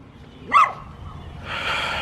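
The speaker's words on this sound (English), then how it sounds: "this is a great timing for the dog to start barking" A single short dog bark rings out nearby, followed by a burst of hissy noise.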